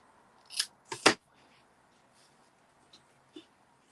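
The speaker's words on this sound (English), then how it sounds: "So I just need to trim this ribbon down again." Scissors trimming ribbon for a tea light candle holder box: a few quick crisp snips close by, then faint small clicks and handling sounds.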